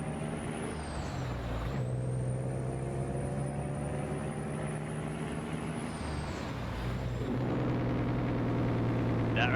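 Detroit diesel truck engine from American Truck Simulator droning steadily under a sustained high air-brake hiss, with the engine note shifting partway through and no speech.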